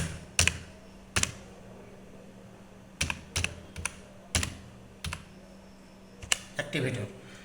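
A computer keyboard tapped in scattered bursts of sharp key clicks while a file name is entered, close up, with a low steady hum beneath and a voice speaking between keystrokes.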